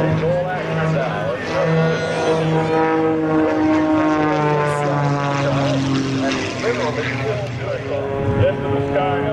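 An aerobatic propeller airplane at an air show over a Marine Corps base in Hawaii drones loudly and continuously, its engine pitch sliding and shifting as it maneuvers, with an announcer talking over it throughout.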